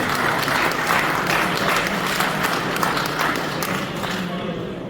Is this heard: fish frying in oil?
no